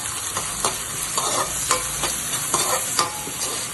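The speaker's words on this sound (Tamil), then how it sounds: "இப்போ சாப்பரில் கட் பண்ணிட்டு வந்த வெங்காயத்தை போட்டுருவோம்" Chopped onions fry in hot oil in a pan while being stirred, a continuous loud sizzle broken by the scrape and clatter of a spoon at irregular intervals.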